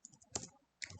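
A computer keyboard is used to type the letter N at a program prompt: two or three quiet close clicks, a gap, then another brief burst of keystrokes, with no voice.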